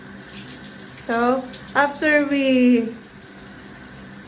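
Water sprays steadily from a brand-new shower head, a constant hiss running through the whole moment while a voice speaks briefly over it.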